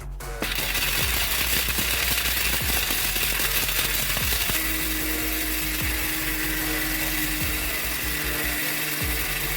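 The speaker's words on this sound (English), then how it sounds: "We are going to blend this till it's very smooth." A blender grinds Ogbono seeds until very smooth, making a loud, continuous, rattling mechanical whir close by with grainy clattering throughout and no voices.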